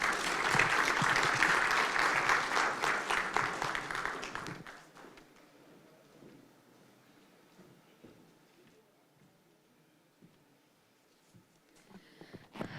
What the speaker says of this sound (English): Can we have again a big round of applause for that address?